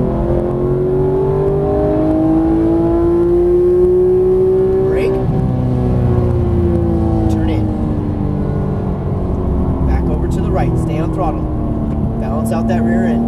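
A Porsche GT3 engine accelerating around a track, a loud steady drone with rising pitch sweeps under continuous coaching speech from a passenger throughout.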